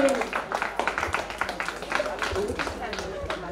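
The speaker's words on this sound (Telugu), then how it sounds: "గట్టిగా మరొకసారి చప్పట్లు కొట్టాలి" An audience claps at a school farewell event at Vignan High School, a steady patter of many hands with uneven rhythmic peaks, fairly faint and slightly distant.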